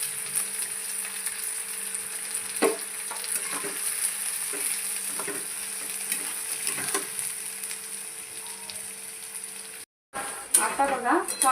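Onion sizzling in hot oil in a kadhai, a steady crackling hiss with occasional stirring scrapes near the end.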